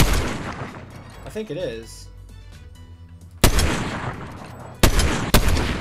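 Sniper rifle shots in Fortnite: a few loud, sharp cracks stand out against game ambience, one near the middle and two more toward the end, with a voice talking briefly in between.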